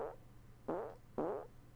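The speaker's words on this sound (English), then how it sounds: "Stop playing fart clips while I'm eating pasta bolognese." Three short, buzzy fart sound effects play one after another, each a brief sputtering blurt with a falling pitch, moderately loud over a low hum.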